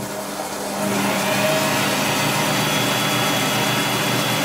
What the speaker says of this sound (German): Ich starte jetzt einmal den Spindel.